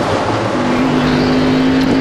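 A NASCAR stock car at Richmond powers hard off the corner, its engine note climbing in a loud, close, sustained roar with a steady rising pitch and no talking.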